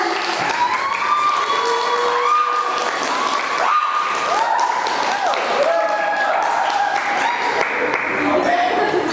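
Audience applause and cheering for a student debater at a high school student council debate, sustained clapping in a hall with voices speaking over it.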